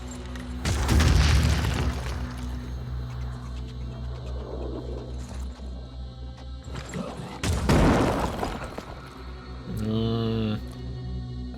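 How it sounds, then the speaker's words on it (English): Gunfire from pistols in the turn-based tactics game Phoenix Point, with loud booming shots near the start and again around the middle, separated by a rumbling ambient bed and a brief tonal effect near the end. "That's a lot of pistol shooting."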